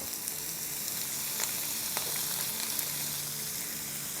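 Okra and mutton fry in a pan with a steady, close sizzle throughout, broken by a few faint stirring clicks, and no voices.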